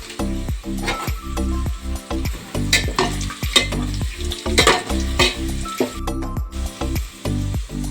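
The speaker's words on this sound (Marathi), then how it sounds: "असे थोडे खडे मसाले ह्याच्यामध्ये आता तळून घ्यायचे आहेत।" Whole spices, including cloves, peppercorns, star anise and bay leaf, fry with onion in hot oil for tiranga biryani, crackling and sizzling loudly and steadily, with repeated stirring scrapes and clinks from the pan.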